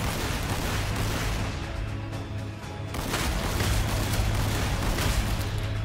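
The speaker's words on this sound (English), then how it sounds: "they're still shooting" Sustained battlefield gunfire and artillery-like booms in the Warhammer 40,000 Sanctus Reach video game, a dense continuous roar of shots with a brief dip midway before surging again.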